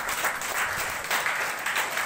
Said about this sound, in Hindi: और एक बार उनके लिए जोरदार ताली।